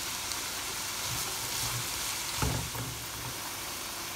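Three large onions frying with ginger in a pan give off a steady, close broadband sizzle that runs throughout, with a brief clatter of utensil or pan near the middle.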